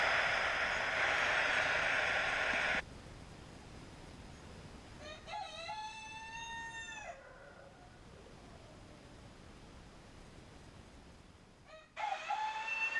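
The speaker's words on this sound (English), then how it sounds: "The roosters are in fine form this morning." Quail rooster crows sound twice, a sharp rising call followed by a later second one, over a quiet morning background after a loud burst of noise at the start.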